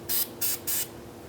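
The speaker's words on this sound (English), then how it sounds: "I'm going to spray the threads with copper spray." Three short bursts of copper spray aerosol hiss onto the threads of an outer tie rod on a 2005-2009 Subaru Outback, each about a fifth of a second long and evenly spaced, close and fairly quiet.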